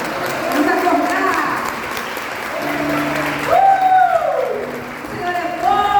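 Church congregation at a worship service clapping steadily in praise while voices sing and call out over the applause.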